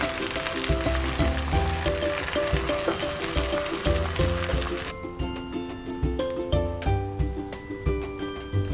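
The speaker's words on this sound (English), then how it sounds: "Using another pan, let's heat our oil and cook our egg and cheese." Egg and cheese fry in hot oil in a pan, a steady crackling sizzle running throughout while music plays over it and drops quieter partway through.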